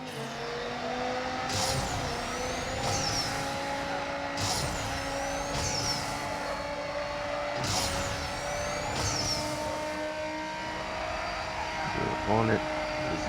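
Dodge Viper race cars in Need for Speed No Limits roaring steadily for the whole stretch, engine pitch climbing and dropping through gear shifts, with swooshing pass-bys and a brief tire squeal near the end.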